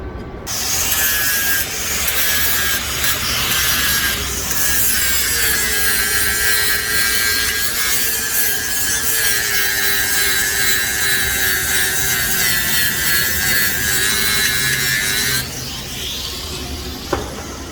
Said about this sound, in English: I'm going to go ahead and grind these tacks down just a hair